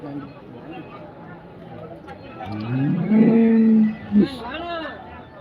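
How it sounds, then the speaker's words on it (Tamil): Cattle at the Karungalpalayam cattle market in Erode, with one loud, close moo rising and falling over about a second amid a murmur of people talking and general market bustle. "நல்லா பெரிய சைஸ் மாடு தாங்க"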